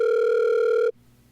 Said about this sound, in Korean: 전화로 연결해 보겠습니다